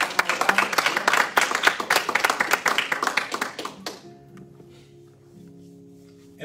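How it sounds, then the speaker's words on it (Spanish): Applause from a church congregation comes as a loud burst of many hands clapping with sharp, rhythmic slaps, then stops abruptly about two-thirds through, giving way to quiet hum and soft tones. "Vamos a darle un aplauso al Señor"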